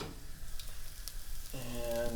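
Green beans and onions sauté in a hot pan, a steady soft sizzle with light scraping and stirring, growing a little fuller toward the end.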